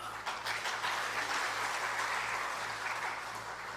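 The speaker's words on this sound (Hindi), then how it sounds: "यहां से तो ताली बजती है" A crowd at a political speech applauds with dense, steady clapping that stays loud and even for a few seconds, with no voice over it.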